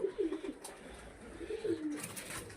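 Pigeons, including a white-and-black cock bird kept for sale, coo in low repeated phrases close by, a few soft bursts over a quiet background.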